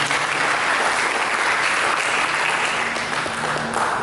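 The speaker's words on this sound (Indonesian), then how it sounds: "Mari kita berikan tepuk tangan bagi kita" Sustained applause from a church congregation, steady and fairly loud throughout, with no voices standing out.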